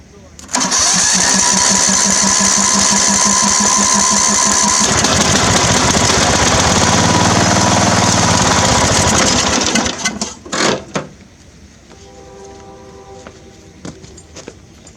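An old John Deere riding mower's small engine sputters to life and roars steadily for about nine seconds, then cuts out, leaving quieter background noise and a faint hum.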